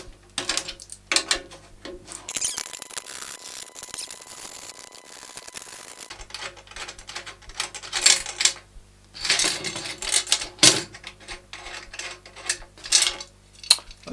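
Drum key loosening the tension bolts around a drum rim one after another, a run of small metallic clicks and ratcheting turns with brief gaps and a louder clatter near the end, close up.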